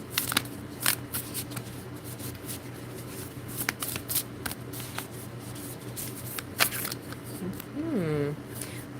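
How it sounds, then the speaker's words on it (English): Tarot cards are riffled and shuffled by hand close up in a series of crisp, uneven bursts, with a brief hum of voice near the end. "I'd shuffle under the camera"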